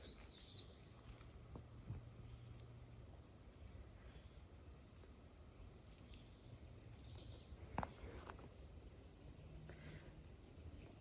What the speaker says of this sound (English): Happy birds.